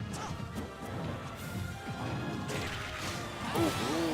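Marth's forward smash tipper landing in Super Smash Bros, a sharp crashing hit with swishing sword sounds amid busy game effects and crowd noise.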